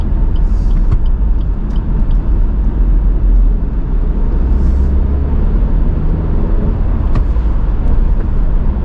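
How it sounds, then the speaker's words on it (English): Road traffic streams through an unsignalled junction at Canterbury Road A28 in Thanet, a continuous loud rumble of passing cars and heavier vehicles close by, with no pauses. "we've got the London-bound traffic from Margate coming through as well"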